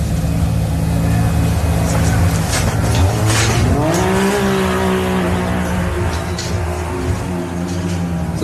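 Side-by-side off-road racer launching off the start line at an off-road race in a 4x4 adventure park, engine revving hard and rising in pitch through quick gear changes, loud and close, with tire noise and crowd bustle behind.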